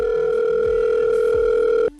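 A steady telephone ringback tone hums loud and continuous for about two seconds as a phone call is placed, then cuts off abruptly near the end.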